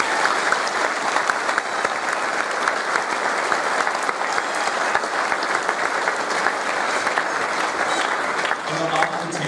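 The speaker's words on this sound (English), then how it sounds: "So if we could just have a round of applause for them." Sustained applause from a school assembly audience, dense and steady clapping throughout, fairly loud with no pauses.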